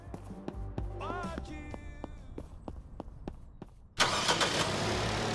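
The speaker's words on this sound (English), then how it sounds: "this car is so loud" Scattered knocks and a bit of voice give way to a sudden, loud roaring car engine that surges and stays strong.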